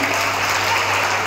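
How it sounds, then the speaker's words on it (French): A group claps for a classmate during a child-labour awareness workshop on cocoa farming, producing a steady, dense wash of applause, fairly loud and close, with no break across the short burst. "Applaudissez pour votre ami"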